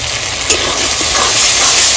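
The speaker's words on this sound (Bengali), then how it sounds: "সবকিছু আমি সুন্দর করে মিশিয়ে নেব আর আস্তে আস্তে জাল দেবো আর কষিয়ে নেব।" Spice paste of onion, garlic, cumin, dried chilli and ginger sizzles as it is stirred and fried in a pan in a village kitchen, a steady loud hiss with a few soft scrapes.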